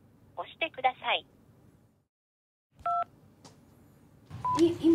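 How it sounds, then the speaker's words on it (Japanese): A recorded voice menu for the Saitama emergency telephone consultation line is followed by a pause, then a single short keypad beep as a menu button is pressed. A second voice starts at the end. "電話相談のうち子どもは1を、大人は2を押してください。"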